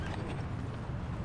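Horses' hooves clip-clop on the ground as horses move during a friendly buzkashi-style match, a quick, uneven run of muffled thuds heard at a moderate distance over low background noise.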